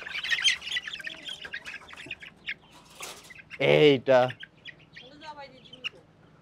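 Chickens and young roosters on a farm give two loud, close squawking calls in the middle, with fainter clucks and chirps scattered around them while a person talks throughout.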